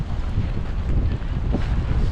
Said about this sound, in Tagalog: Saka ang lakas po ng hangin, sumabay pa yung hangin, kaya malamig po dito sa Taiwan.